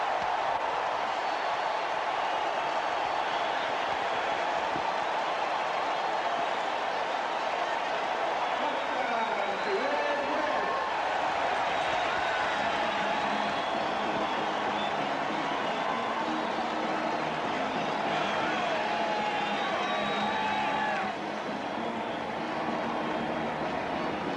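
A stadium crowd at a 1989 Buccaneers vs. Packers game roars after a Packers touchdown, a broad, sustained wash of cheering that stays loud throughout. A broadcast announcer talks over it.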